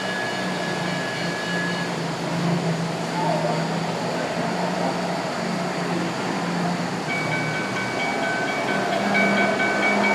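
A model EMD E8 diesel locomotive rumbles past at a railroad museum layout with a steady engine drone and faint metallic squeals, continuous and moderately loud, before going underground.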